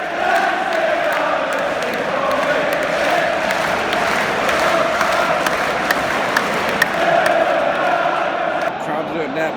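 A dense stadium crowd roars and chants at a Premier League match, Manchester United against Leicester City, the sustained noise enveloping and loud with a voice talking over it close by.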